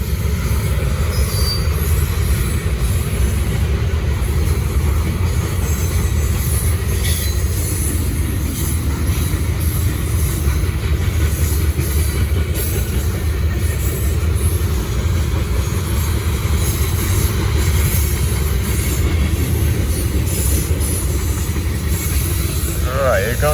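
A Norfolk Southern freight train rolls past at Gaffney, South Carolina, its cars rumbling steadily and loudly at close range with a faint wheel squeal running through the passage.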